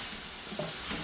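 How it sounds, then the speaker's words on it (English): Tandoori masala spices stirred into a sizzling madras curry sauce in a pan, a short close burst of scraping and bubbling sizzle. "So we're just going to give that a really good stir"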